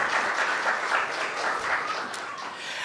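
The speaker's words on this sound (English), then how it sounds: "Let's give Brother Amir Ali another wonderful round of applause." An audience at a tribute gathering gives a sustained round of applause, dense even clapping filling the room at a steady level and tapering slightly near the end.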